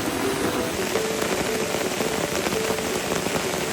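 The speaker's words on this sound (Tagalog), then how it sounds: "Umaga na at wala pa rin tigil ang ulan." Steady, dense rain falling and pattering on a surface, constant and fairly loud throughout, with no voices.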